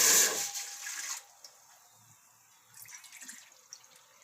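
A bowl of water is poured into a pot for making wheat-flour papad, a short close splash and gush that quickly fades to quiet dripping.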